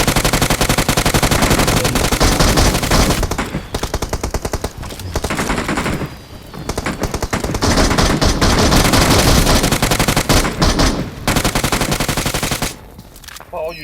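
Video game gunfire crackles in long, rapid automatic bursts, loud and close, with brief pauses between volleys and a few quieter gaps near the end.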